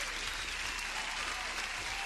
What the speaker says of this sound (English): huge applause for everyone who is here